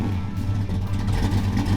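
An old car's engine just started and revving, a steady, loud, close mid-pitched drone with a rough growl that holds for under two seconds with no talk.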